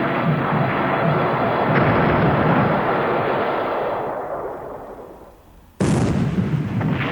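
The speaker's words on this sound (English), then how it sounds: "A little more bomb hits here." Bomb hits explode in the World War II naval strategy game War in the Pacific, a long loud roaring blast rumble that slowly fades, then a second sharp explosion bursts in near the end, with no talking.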